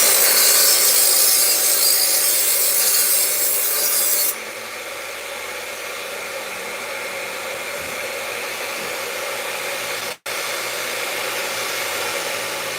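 A 14-inch Makita metal chop saw grinding through steel scaffold pipe, a loud, steady abrasive roar that drops slightly in pitch midway and cuts out briefly near the end, close up with no voices.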